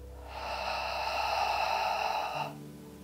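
A long, steady exhale through the mouth during a floor stretching exercise, a single close breath-out lasting about two seconds with a soft hiss, alone in a quiet room.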